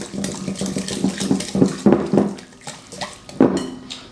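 A macaroni and cheese mixture being whisked, with quick irregular clinks and scrapes of the whisk against the bowl, steady and close, with no voices.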